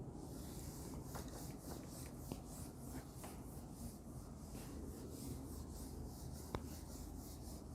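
A teacher rubs out a classroom board, producing a continuous scratchy rubbing noise with faint rhythmic strokes and a few small taps, fairly quiet with no voice over it.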